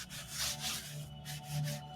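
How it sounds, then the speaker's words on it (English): Wood being sanded by hand for a custom indoor greenhouse propagation stand, a steady close rasping rub in repeated back-and-forth strokes with no talking. "There will be more sanding."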